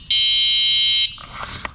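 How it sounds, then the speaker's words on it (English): YUME Hawk electric scooter horn giving one loud, steady buzzer-like electronic tone held for about a second, then cutting off, followed by faint clicks and handling noise. "Sounds a little more like a buzzer than a horn, perhaps. It's loud though."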